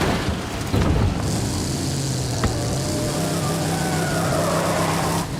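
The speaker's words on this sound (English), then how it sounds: "Not good when Forza Horizon 5, a game that just came out in this decade, has engine sounds that are like a off-roading game from the 2000s" A car engine in Forza Horizon 5 drones loud and close with a constant revving tone, then a brief sharp knock partway through.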